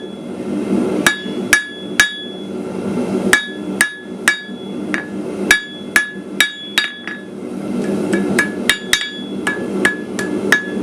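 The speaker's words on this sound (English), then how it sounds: "we're going to keep on working both from the near side and far side of the anvil, just to bring that down a little bit" Hot metal hammered on an anvil while working a holly and berry piece: sharp ringing metallic strikes arrive in irregular clusters over a steady background hum, loud and close, with no talking.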